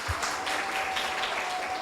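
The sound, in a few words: audience applause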